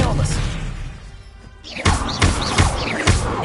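Spells cast in the Hogwarts Legacy video game (Incendio, Expelliarmus and Accio) set off a run of heavy thuds and bursts that grow louder partway through, against a busy game background with a voice present.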